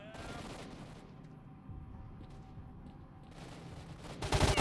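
Gunfire in STALKER: Shadow of Chernobyl, a run of rapid shots and bursts at moderate distance, pausing briefly midway before a louder close burst at the end, with no talk over it.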